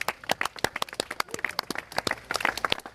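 Scattered applause from a small group outdoors after a drone lands on the roof of a Mercedes delivery van, individual claps distinct and uneven, fairly close.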